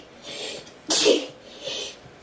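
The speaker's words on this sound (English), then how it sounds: "sorry if I sneeze." A single sneeze from someone with a cold, a short sharp burst preceded by a quick breathy intake and followed by faint breathing, close and fairly quiet indoors.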